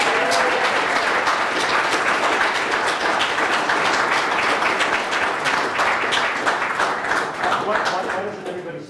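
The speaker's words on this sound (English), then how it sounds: "More applause, please." Sustained audience applause fills a room at a university honors event, dense steady clapping throughout that tapers slightly at the end, with a few voices mixed into the crowd.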